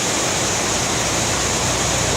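Niagara Falls roars as a massive waterfall heard up close, a loud, dense and constant rushing wash of water with no breaks.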